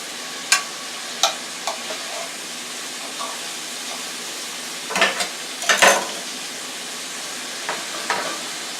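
Shrimp and vegetables fry in a frying pan with a low, quiet sizzle, broken by short, sharp scraping bursts as the food is stirred, clustered most heavily in the middle.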